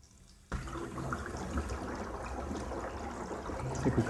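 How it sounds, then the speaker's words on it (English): Air released through a bubbler tube into a liquid tank, starting abruptly as a steady bubbling, gurgling rush that grows slightly louder toward the end. "Hopefully we'll be able to hear the bubbling."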